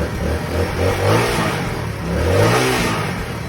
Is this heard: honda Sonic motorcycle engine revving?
yes